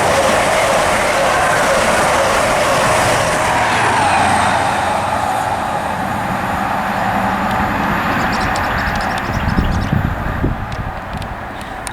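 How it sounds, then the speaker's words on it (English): An LNER HST express from Edinburgh to London King's Cross, with power cars 43239 and 43314, passes at speed on the East Coast Main Line at Grantham, a loud, sustained roar with rushing wheel and rail noise and rattling near the end. "43239 and 43314 on a passing LNER HST from Edinburgh to London King's Cross"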